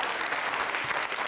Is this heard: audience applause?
yes